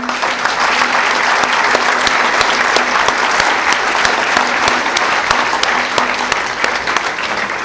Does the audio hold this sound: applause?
yes